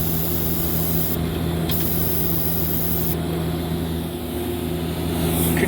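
A steady TIG welding arc on a Kawasaki H1 500 engine case, a continuous close hiss with a low electrical hum that holds throughout, shifting slightly in tone as the foot pedal varies the amperage.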